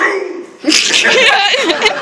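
A voice imitates Richard Nixon sneezing, a quick burst of exaggerated, laugh-like vocal sneezes after a short quiet start.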